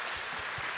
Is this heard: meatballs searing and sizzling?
no